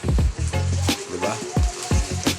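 Pancit frying in a pan, with a steady close sizzle and stirring, while voices talk over it.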